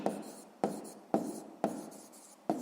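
A pen writing out a sixth-grade maths solution, heard as five short scratchy strokes at an even pace, each starting with a tap and trailing off, close and fairly quiet.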